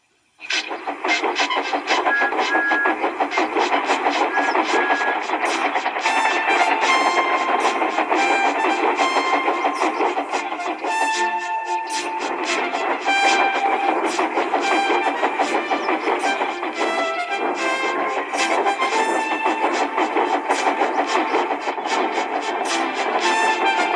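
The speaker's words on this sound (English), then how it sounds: "The wheels of the coaches were just rattling." Train coaches rattle and clatter steadily along the rails, a dense rhythmic clicking that continues at an even pace throughout.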